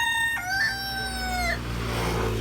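A rooster crows once nearby, a long rising-then-falling call, with faint clucking and farmyard background.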